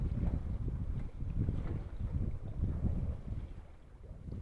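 Wind gusts steadily across the water of Cayuga Lake, a continuous low buffeting rumble against the microphone with no voices.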